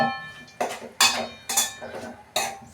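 A utensil stirring food in a cooking pot with tamarind added, scraping and clinking against the metal in about five regular strokes, close and fairly loud.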